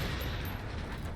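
Crackling bursts of fireworks in the Generation Zero game, a dense rapid rattle of pops at fairly close range, continuous with no talking.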